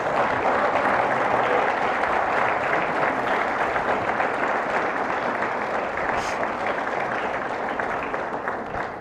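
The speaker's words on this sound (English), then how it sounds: "Let's give them a round of applause." An audience gives sustained applause for a school's founders and teachers, a dense, even wash of many hands clapping that holds steady and loud throughout, tapering only slightly at the end.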